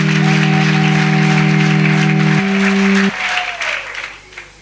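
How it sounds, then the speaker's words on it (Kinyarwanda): A church congregation breaks into applause over a held electronic keyboard chord, the clapping carrying on after the music stops and then fading away. "ayo mashyi tuyongerera Imana"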